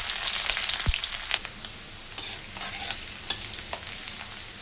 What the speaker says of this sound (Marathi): तेल गरम झालेलं आहे. अद्रक आणि लसूण कापून घेतलेलं ते टाकून घेऊया.